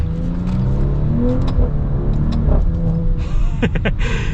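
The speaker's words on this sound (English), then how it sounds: "the sound it makes on upshifts is just so beautiful. I don't think that there is a better sounding V6 out there" A 2021 Maserati Levante GranLusso's V6 engine rumbles loudly up close as the SUV accelerates, its note rising and dropping through several upshifts with a steady throaty growl.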